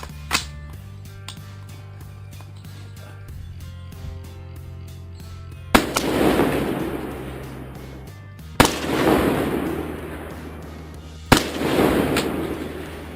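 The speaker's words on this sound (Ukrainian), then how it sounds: "Нарешті, наша остання серія пострілів з ятеч, і ми закінчили." Three sharp, loud rifle shots ring out several seconds apart at a distant target on a range up to 300 yards, each crack followed by a long rolling echo, with quiet background hum between them.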